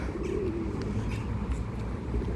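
Pigeons coo softly in a Kharkiv city street, a low warbling call rising over a steady wash of urban background noise.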